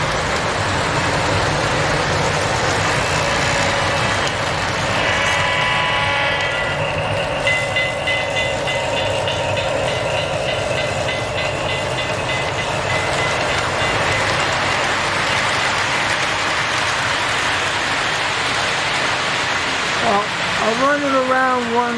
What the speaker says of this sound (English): I'll slow it down so it will drown out the noise of the train, and you'll hear the engine